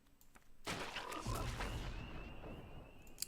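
A Frog Warlock card in Magic: The Gathering triggers a sudden, loud, fuller effect that swells after a short quiet lead-in and holds a dense croaking texture for a few seconds.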